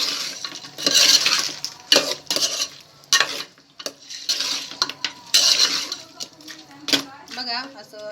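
Spices for chicken curry are stirred together in a pot with loud, irregular scraping and clattering strokes of a metal spoon, with a light sizzle underneath and brief voice sounds.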